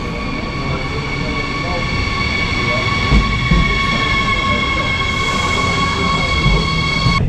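A double-decker train in a main railway station bound for Düsseldorf, a steady loud rail rumble with high sustained tones running through it, close and continuous.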